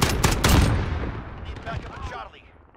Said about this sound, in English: Firing over here.